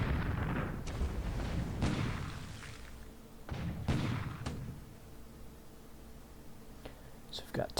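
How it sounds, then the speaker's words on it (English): Heavy guns booming in a naval war strategy game, a series of loud, deep blasts with rumbling decay, spaced irregularly over a continuous low background rumble. "we got 150mm coastal defense gun firing"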